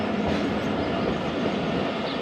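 Passenger train rolling away down the railway line, a steady broadband rumble of wagons and wheels on track with faint clickety-clack, continuous and fairly close throughout.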